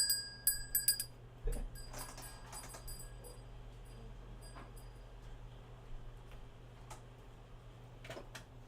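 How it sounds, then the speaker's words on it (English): A small hand bell rings several quick, bright dings at the start, then the ringing trails off into faint room quiet with a few scattered light clinks, no voices. "I bought my wife this little bell."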